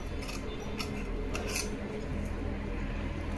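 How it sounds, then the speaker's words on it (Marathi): Scissors snip through folded blouse fabric during tailoring. A few quick, close crisp cuts fall in a short burst over a low room hum, and nobody talks. "तर बघा आता ब्लाऊज व्यवस्थित आपण जसं ड्रॉ केलेलं आहे ना त्यानुसार आपण कटिंग करून घेऊ।"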